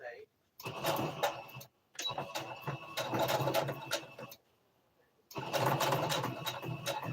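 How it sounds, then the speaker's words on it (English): A sewing machine stitches a quarter-inch seam joining two fabric pieces of a twist turban hat, running in three close bursts separated by short pauses. "So 1/4 inch seam to sew these two pieces together."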